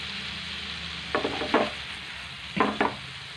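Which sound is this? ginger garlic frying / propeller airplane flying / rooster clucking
ginger garlic frying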